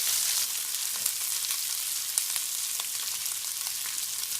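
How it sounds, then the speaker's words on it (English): Hash browns frying in a pan for breakfast burritos, a steady close hiss and crackle of sizzling oil with a few small pops throughout. "So now we're going to press down lightly on the hash browns. That way they get brown."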